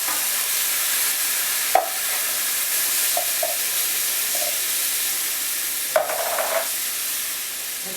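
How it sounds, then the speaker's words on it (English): Tomatoes tipped into a hot pan of softened onion, garlic and ginger for a curry base sizzle and fry steadily, with a couple of sharp stirring clatters against the pan and no voices. "Fire the tomatoes in."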